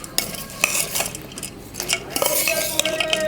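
Puffed rice, onions and other bhel puri ingredients are tossed and stirred together in a metal bowl, giving a busy run of scraping, rustling and clinking spoon strokes close up.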